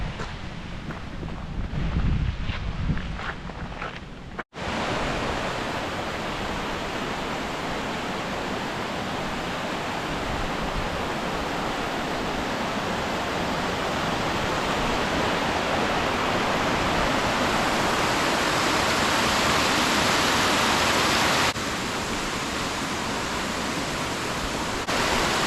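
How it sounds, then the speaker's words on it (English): Steady roaring rush of falling water, broad and constant, after a few seconds of rustling and handling noise at the start. "Some sort of waterfall down there."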